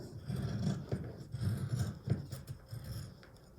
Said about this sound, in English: I feel better about cutting with my good scissors